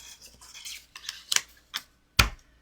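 Handheld 2 3/8 inch paper punch used in Christmas card making, giving a few soft crinkles followed by sharp close snaps, the last crisp and loudest.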